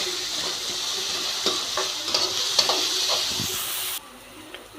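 Chopped onions and green chilies sizzle steadily in a pan, with a spoon scraping and stirring in a few distinct strokes; the frying hiss is close and continuous and cuts off abruptly near the end.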